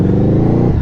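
A QJmotor Flash 600 V4 motorcycle engine revs hard under throttle, a loud, close, steady growling roar with dense rapid firing pulses that eases slightly toward the end.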